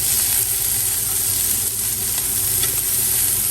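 Capsicum and chilies sizzle loudly in a small pan as they are stir-fried for chow mein, giving a dense, continuous hiss and crackle with faint stirring, close and uninterrupted, with no voices.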